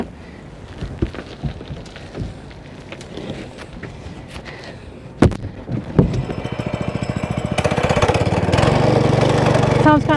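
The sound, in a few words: sod cutter cutting off grass sod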